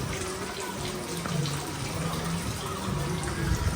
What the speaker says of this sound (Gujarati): આ બાજુ ગોવર્ધન પર્વત ઉપાડેલો, એમાંથી પાણી પડે છે.